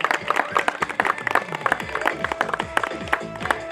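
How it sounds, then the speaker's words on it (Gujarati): Enthusiastic crowd applause at a cricket tournament opening ceremony, dense rapid clapping from many hands, loud and steady throughout, a short outdoor burst welcoming guests. "તાળીઓ થઈ જાય સાહેબ"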